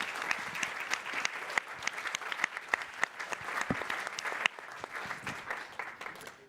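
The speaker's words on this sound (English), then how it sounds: "And a round of applause for them." Audience applause at a clean-energy industry conference, many hands clapping steadily with sharp individual claps poking through, fairly close and sustained throughout.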